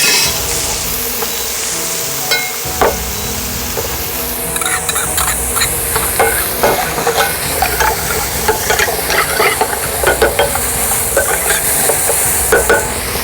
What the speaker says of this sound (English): Cook slowly the onion, it will get like a sweat and it will make it like a soft tender